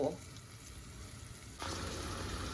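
Chopped onion frying in coconut oil in a pan for Konkani fish curry, a steady close sizzle that turns louder and denser partway through as the onion goes in.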